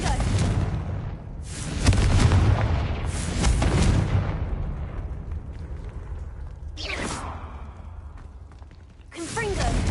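Confringo spell explosions in Hogwarts Legacy, several loud booming blasts with crackling debris, followed by sharper whooshing casts later, all close and in a game soundscape.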